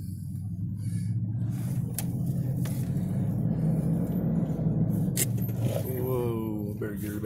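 A Dodge Power Wagon truck descends a steep sand dune in first gear, its engine a low steady rumble with a few scraping knocks and creaks. Someone talks over the motor.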